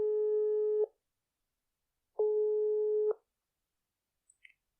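Two long steady telephone line tones, each close to a second, separated by a pause while a phone call is being placed, followed by a faint brief click.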